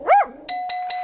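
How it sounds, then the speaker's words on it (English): A doorbell chimes in a dog game show inside a Jackbox video game: a rising dog yelp first, then three bright, ringing bell tones in quick succession, loud and close. "that bell is making our contestants think someone's at the door"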